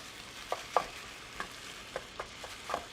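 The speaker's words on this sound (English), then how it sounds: "Ground beef is sauteing" Ground beef sautéing in a pan on a morning show cooking segment, a soft sizzle under a handful of sharp taps and scrapes from stirring, close up and fairly quiet.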